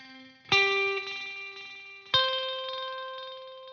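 A guitar through an Eventide UltraTap multitap delay pedal: two bright plucked notes a second and a half apart, each ringing on with smeared, cascading repeats that slowly fade. No talking.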